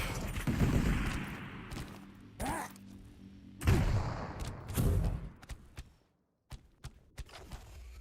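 Rocket launcher fire during a Quake duel, with several loud blasts and explosion thuds at irregular intervals followed by sharp clicks, heard under a commentator's voice.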